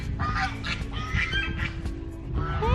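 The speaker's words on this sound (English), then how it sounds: "I haven't shown y'all the chickens in a while" Chickens on a farm cluck and squawk in a run of overlapping calls, close by and moderately loud, with no talking.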